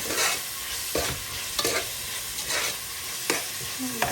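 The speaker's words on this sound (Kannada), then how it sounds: "ಇದು ಗೋಲ್ಡನ್ ಬ್ರೌನ್ ಆಗೋವರೆಗೂ ಚೆನ್ನಾಗಿ ಫ್ರೈ ಮಾಡಿದ್ದೀವಿ." Chicken biryani ingredients sizzle and fry in a pan, with stirring scrapes coming every second or so over a steady crackle; close, moderately loud, no talking.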